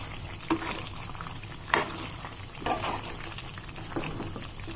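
Chili powder and salt are stirred into frying chicken pickle masala with ginger-garlic paste, making a steady bubbling sizzle broken by a few sharp spoon scrapes against the pan.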